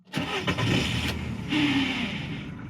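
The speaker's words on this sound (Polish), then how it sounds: "Pompuję paliwo, odpalamy już na skręconej przepustnicy nowym oleju." A car engine, fresh oil just added and throttle body already screwed on, cranks briefly and catches, then settles into a loud, close, steady idle with a slight rise in pitch.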